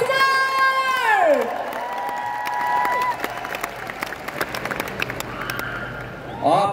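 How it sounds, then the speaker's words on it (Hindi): An indoor event audience claps and cheers loudly for an honoree, with the applause running through most of the stretch under amplified music and voices. "दोनों हाथ ऊपर, जोरदार तालियां"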